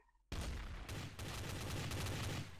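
A sharp gunshot in Garry's Mod bursts out suddenly after a quiet moment and is followed by a dense, rattling volley of further shots that rings on to the end.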